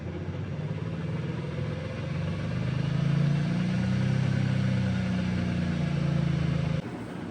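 The electric motor of a 1975 Volvo 164 EV conversion spins up with a steady whirring hum that swells, holds, then drops off abruptly near the end.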